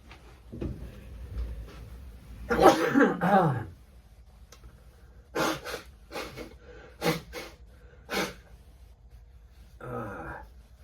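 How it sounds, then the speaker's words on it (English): A quiet room holds a sudden throaty burst like a stifled sneeze, followed by a few short sniffs and small noises. "feel a sneeze coming on."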